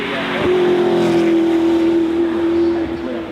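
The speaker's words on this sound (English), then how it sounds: "That Bugatti as well, the last car from there with the 8-litre W16 turbo charged engine" A Bugatti Jesko Absolute hypercar with an 8-litre quad-turbocharged W16 engine holds a loud, steady, high-pitched engine drone for a few seconds, close by, with faint voices in the background.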